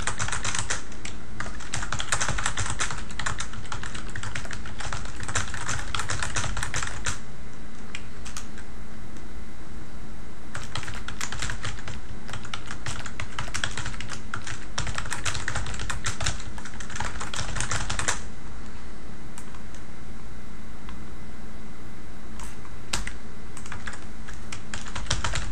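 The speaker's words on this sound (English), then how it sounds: "So let's write some cool text in here." Steady typing on a computer keyboard, continuous clatter of keystrokes at close range with a short pause midway, no voices.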